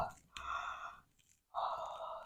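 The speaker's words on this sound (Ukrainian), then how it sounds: "Відкриваємо рот і позіхаємо" During a vocal warm-up, an open-mouthed yawn comes as a long breathy exhale, then a pause and a second drawn-out airy yawn, close and soft.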